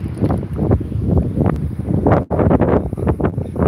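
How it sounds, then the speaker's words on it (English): Strong wind buffeting outdoors in Illinois or Iowa, loud gusty roaring rumble hitting the microphone in continuous surges with one brief dropout, no speech. "it's super windy out here"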